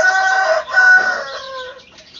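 A broody hen settled on a clutch of chicken eggs at home gives a close, drawn-out run of clucking calls lasting about two seconds, loud at first and then trailing softer, with no talking.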